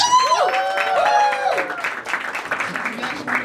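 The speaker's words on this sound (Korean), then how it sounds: "박수!" Audience at a musical event applauding as the show's director is introduced, clapping and some cheering spreading under a voice at the start, then continuing as a loose, moderately close crowd clap.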